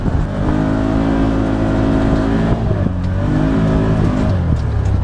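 A Can-Am Commander side-by-side rolls downhill on slickrock trail with brakes off, its engine holding back the machine in a steady, loud drone whose pitch sags and lifts slightly, close and alone without talk.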